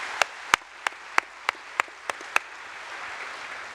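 Sparse, scattered claps from a convention audience applauding the MGM Grand workers, about eight distinct sharp hand claps spaced unevenly over faint room tone.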